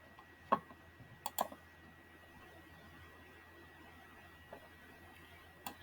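A few sharp, faint computer mouse clicks, single and in quick pairs, sound against a quiet room hum.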